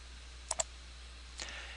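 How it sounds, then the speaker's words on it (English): A computer mouse clicking Next in a MetaTrader 4 installer, a quick pair of faint, close clicks followed by a softer click a moment later against a quiet hum. "and I'm going to click Next."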